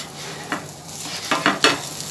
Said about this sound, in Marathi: आपण डोसा परतवून घेऊयात.